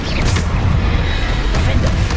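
Bombarda spell explosions in Hogwarts Legacy combat, deep booming blasts rumbling over continuous game noise, loud and dense with overlapping impacts.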